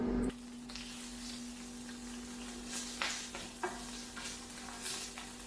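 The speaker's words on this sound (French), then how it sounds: "Pour bien les saisir sur une face, on les retourne, on met un peu de l'eau ou du bouillon et on couvre" Ravioles sear in hot oil in a frying pan with a soft, fairly quiet sizzle, punctuated by a few crisp scraping bursts as they are turned.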